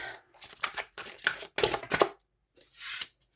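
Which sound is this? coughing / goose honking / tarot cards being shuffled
tarot cards being shuffled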